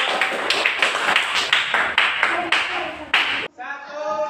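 Quick rhythmic clapping from pupils in an elementary classroom, a run of sharp claps that stops abruptly, followed by a short sung or chanted tone.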